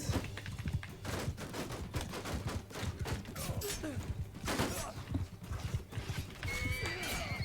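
A horse neighs and whinnies as it is cut down in a medieval battle game, with hoof clip-clop, clashing weapons and crowd noise around it; the whinnies rise repeatedly over the steady din of combat.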